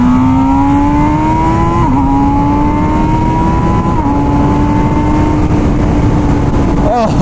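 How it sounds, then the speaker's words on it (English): A loud MV Agusta Brutale 1000RS motorcycle engine drones at high revs with a steady, rising exhaust tone, briefly dipping at a couple of auto-blipped gear changes, close and constant throughout. "the astonishingly good sounding exhaust note to this"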